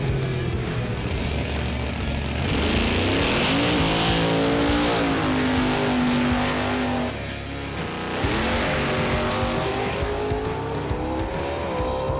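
Heads-up drag race cars on a Pro Tree strip at the Red CENTRENATS event roar loudly and continuously, engines climbing in pitch through gear changes over about twelve seconds, with a brief dip before another run surges past.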